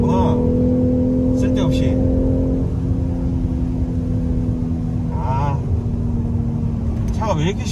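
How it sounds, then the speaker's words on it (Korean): A Jaguar XJ X351 3.0D diesel accelerates in sport mode, its speaker-generated synthetic engine sound a steady low hum and drone heard from inside the cabin, with someone speaking briefly over it. "사운드 제네레이션이 들어가가지고 가속 페달을 밟으면 스피커에서 엔진 소리를 넣어줘."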